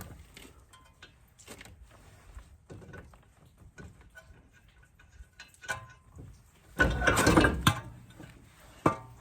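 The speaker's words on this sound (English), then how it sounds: "so now we're going to pull the spindle assembly out" Someone works the spindle assembly loose from a Chevrolet Silverado, with scattered metallic clanks and rattles over a quiet background, then a louder burst of scraping and clunking near the end.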